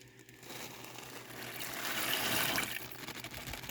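Broth and water pour into a soup pot in a home kitchen, a steady liquid gush building toward a louder fill in the middle, then easing off, close and alone.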